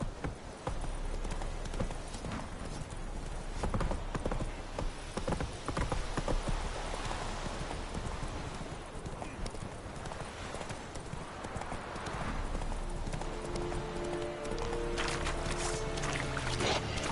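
Hooves of Roach, a horse in The Witcher 3: Wild Hunt, clip-clop steadily at a gallop throughout, close and loud, over game music and ambient sound with no talking.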